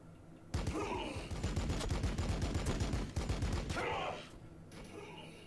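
Sustained rapid gunfire from units in Warhammer 40k Battlesector rattles loudly for about three seconds, joined by scattered bursts and shouts in the battle noise, then fades to distant rumble.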